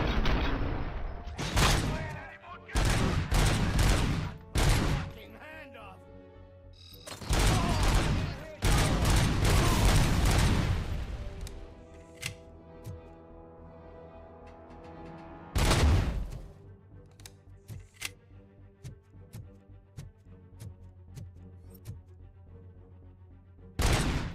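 Bursts of rapid gunfire in the Robocop: Rogue City video game, several loud volleys clustered early on, then a quieter stretch with a low hum and one more sharp burst near the end.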